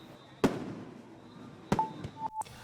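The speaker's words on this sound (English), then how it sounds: "The night culminated with a show of fireworks." A fireworks show at night in Grand Bahama: a few sharp, separate bangs spaced over a couple of seconds, echoing with some distance, with a faint whistle near the end.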